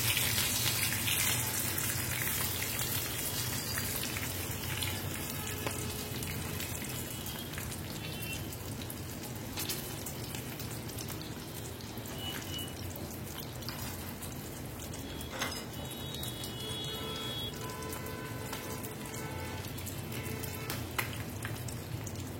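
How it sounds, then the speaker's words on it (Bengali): Amudi fish frying in oil for a Bengali-style fish fry, a steady crackling sizzle with scattered pops that holds at an even level throughout with no talk. "এইভাবেই আমি বাকি মাছগুলো কিন্তু ভেজে নেব"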